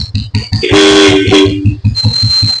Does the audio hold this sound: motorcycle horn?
yes